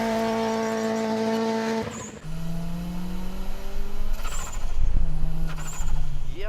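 A lightly tuned Korean-built Genesis 2-liter turbo front-engine rear-drive car, 210 hp with upgraded turbine, suspension and flywheel, revs hard on a mountain pass, engine note climbing through close-ratio gear changes, loud and close with brief tire noise.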